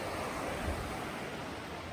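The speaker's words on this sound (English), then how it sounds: "There's one last look at the creek by our campsite." A creek by a winter backpacking campsite near Davenport Gap and Mount Cammerer flows with a constant, broad rushing wash, steady and fairly close with slight wind, and no voices.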